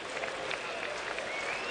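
Sparse crowd at a rain-thinned Cardinals at Marlins baseball game, a faint distant murmur with light scattered clapping, low and washed out across the open stadium.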